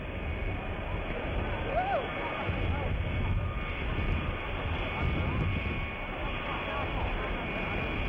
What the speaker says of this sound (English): It's a 707 Astrojet.